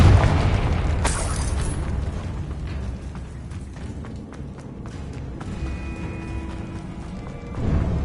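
A Confringo fire-blast spell detonates in Hogwarts Legacy, a loud booming burst at the start that rolls into a long, rumbling decay with scattered crackles, then a second swell near the end.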